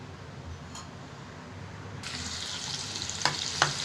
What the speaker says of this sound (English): Now add all the vegetables and saute well.